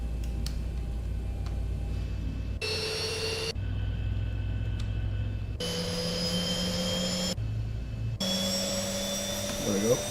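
A Zibo Boeing 737 jet engine spools up in the X-Plane 12 flight simulator, rising turbine whines in alternating blocks over a low steady hum, with talk likely underneath.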